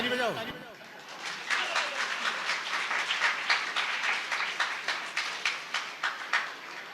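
A poetry gathering audience breaks into clapping that grows into sustained, rhythmic applause, fairly close and lively, after a brief voice at the start.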